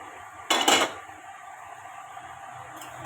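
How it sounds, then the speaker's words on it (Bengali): A spoon scrapes and knocks inside a pot of chana masala as it is stirred, one short loud clatter followed by quieter low rustling and a faint tap near the end. "একটু নেড়ে চেড়ে এবারে নামিয়ে নেব।"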